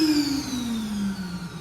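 A faulty Mitsubishi hand dryer runs with a rough, steady whine and a slowly falling motor tone, loud and close, with no talking over it.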